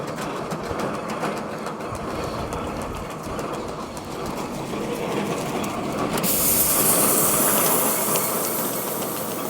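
An Arpal AM-120TR tractor-mounted mulcher clears land with a steady, loud, rough mechanical roar and hiss that swells near the end.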